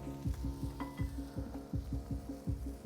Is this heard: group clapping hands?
no